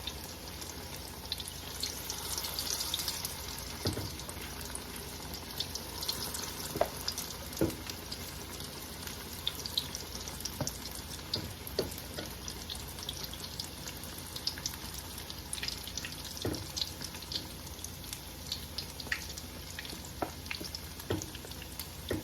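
Soft, continuous sizzling of bean batter for akara frying in hot oil, with occasional light pops and clicks, fairly quiet and close.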